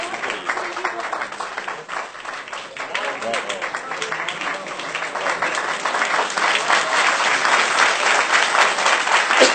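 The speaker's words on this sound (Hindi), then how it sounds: "बहुत बहुत सारी तालियां और बहुत मोहब्बत" Applause from an audience at an Urdu poetry recital by a blind poetess, steady clapping that swells and grows louder toward the end, with voices mixed in beneath.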